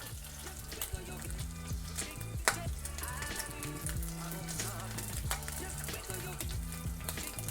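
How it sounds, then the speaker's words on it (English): Sausages pan-fry in a little oil with a steady, moderately loud sizzle and occasional crackles, while a tonal background hum runs underneath. "we're gonna add a little bit of oil and we're gonna pan fry them"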